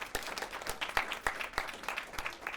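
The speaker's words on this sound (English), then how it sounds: "Round of applause. Round of applause." A small audience applauding at a presentation, with a brisk, uneven patter of handclaps that carries on steadily throughout.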